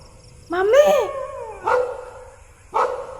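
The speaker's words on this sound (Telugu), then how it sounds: "డాగ్స్ చాలా సేపటి నుంచి అరుస్తున్నాయి" Dogs bark at night in a few separate bursts: a long, wavering whining bark followed by two shorter barks, fairly close and loud against a quiet background.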